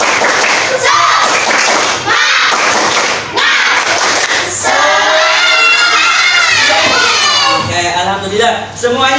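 A group of teachers at an Indonesian teaching workshop does a quick rhythmic 'tepuk semangat' spirit clap while many voices chant and shout along loudly, the chanting swelling toward the end.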